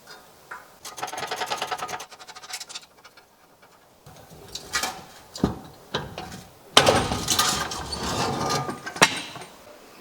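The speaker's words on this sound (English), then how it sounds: "easier just by taking off these U-bolts" Ratcheting and metallic clicking from a wrench loosening oiled U-bolts on an abandoned fiberglass boat, in several close bursts with brief pauses between them.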